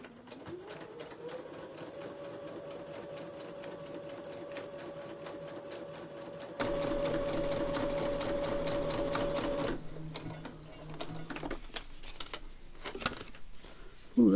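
A sewing machine stitches a junk journal page made from an Edith Holden book, a steady close rapid clatter with a sustained motor whine that grows louder midway, then eases into broken, slower stitching.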